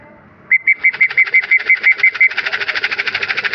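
Racing pigeons arrive at a loft during a race in Sariaya and Pagbilao, heard as a quick run of about a dozen evenly spaced, bright chirp-like calls, then a denser, faster pulsing flutter close by.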